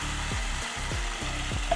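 Hot oil sizzles steadily in a pan as seasoning seeds, curry leaves and crushed garlic cloves temper for peanut chutney, with a dull low thump recurring about every 0.6 seconds as the pan is stirred; no one speaks.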